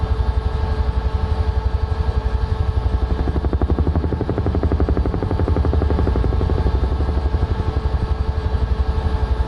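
UH-1H Huey helicopter rotor in a flight simulator game, a loud, steady rhythmic thumping of blades over engine whine, constant and close with no voices.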